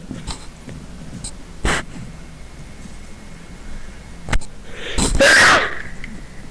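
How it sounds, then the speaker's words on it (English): A single loud, close sneeze bursts out near the end, preceded by a sharp intake of breath and a few quiet bumps. "I'm about to sneeze."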